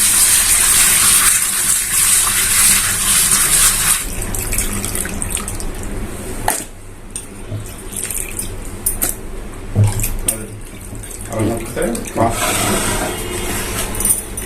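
Tap water gushes into a kitchen sink while fish are being cleaned, a steady loud rush through most of the stretch with splashes and handling noises, and a person talks over it.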